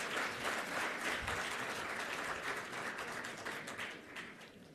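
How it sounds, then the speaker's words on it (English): Audience applause at the Global African Hydrogen Summit 2025, a sustained wash of many hands clapping at steady loudness throughout, slightly easing toward the end, with no speech over it. "He deserves another round of applause."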